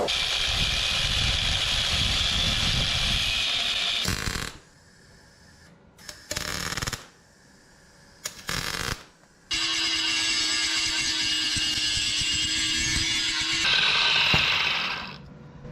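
An angle grinder cuts off a car exhaust hanger during a new exhaust install, in two long, loud, harsh grinding bursts separated by a few seconds of quieter pauses and short clanks.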